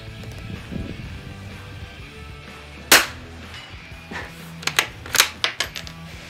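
Distant rifle shots and bullet impacts from a Christensen Arms Ranger carbon fibre rifle, a sharp crack followed later by a cluster of quick, fainter snaps over a low outdoor background.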